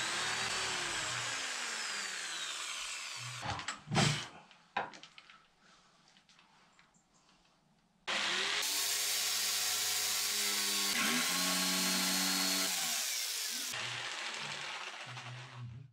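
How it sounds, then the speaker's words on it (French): A drill bit bores through wood, a loud whining motor grind in two bursts separated by a few seconds of quieter handling noise, the second run lasting about six seconds before winding down. "pour éviter que le bois n'éclate lorsque la mèche sera de l'autre côté"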